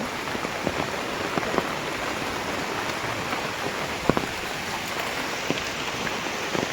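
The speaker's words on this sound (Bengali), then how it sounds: "প্রচুর বৃষ্টি হচ্ছে প্রচুর" Heavy monsoon rain pours down steadily onto a garden and pond in a dense, continuous hiss, with scattered louder drops pattering close by and no voices.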